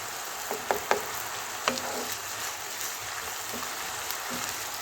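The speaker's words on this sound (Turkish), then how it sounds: "Güzel bir şekilde kavurdum kıymamı" Steady close sizzling of minced meat frying in a pan, a constant hiss with a few sharp pops and crackles.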